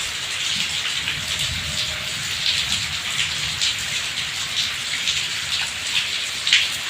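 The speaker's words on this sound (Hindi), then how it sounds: "गर्मियों की पहली बारिश है जिसका कि सब इंतजार कर रहे थे" Steady first summer rain pouring down in a village, a dense continuous hiss with scattered drops pattering on a nearby surface.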